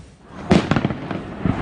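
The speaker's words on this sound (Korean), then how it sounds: "불꽃놀이가 한창인 대전의 한 축제 현장" Fireworks burst at a night festival in Daejeon, a loud blast followed by a quick run of crackling pops and a final thump, close and sharp against a quiet background.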